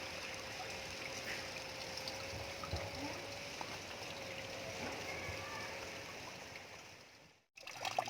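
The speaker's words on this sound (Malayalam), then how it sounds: "ഇപ്പോൾ വീണ്ടും നമ്മൾ വെള്ളം നിറച്ചിട്ട് പൈപ്പ് വഴി വെള്ളം വന്നുകൊണ്ടിരിക്കുന്നുണ്ട്." Water flows through the pipe of a homemade water pump, a steady close trickling and gushing that holds evenly before briefly cutting out and resuming near the end.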